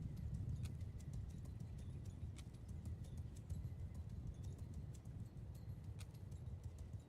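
Cavalry hooves from Mount & Blade II: Bannerlord battle, a quiet continuous rumble of many horses' clip-clop with scattered sharp clicks over a faint distant din.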